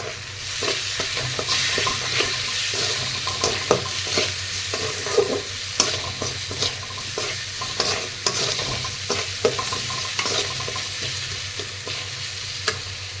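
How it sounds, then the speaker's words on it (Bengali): Cumin paste, turmeric, ginger-garlic paste and salt frying in oil for a potol chingri dish, a steady close sizzle broken by repeated scraping stirs of a spatula against the pan, with no voices. "এই মশলাগুলো খুব সুন্দর করে ভেজে নেবো যতক্ষণ না মশলা থেকে তেল ছেড়ে দিচ্ছে।"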